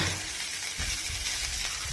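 Vegetables sizzling and frying in a pan, a constant crackling hiss with faint stirring scrapes, close and steady for a brief moment.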